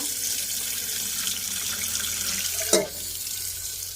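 A tap runs in a steady hissing stream into a sink, close and constant, with a brief clunk near the end.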